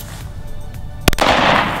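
A single sharp gunshot from a handgun at an outdoor shooting range cracks once, loud and close, followed by a broad rushing echo against a background hum.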